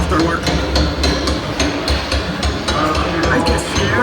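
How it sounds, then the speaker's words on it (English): Rapid, repeated hammer strikes on riveted steel shell plates of the Titanic's hull, a dense industrial clatter with sharp metallic impacts spread steadily across the clip over a low rumble. "the constant hammering against the shell plates"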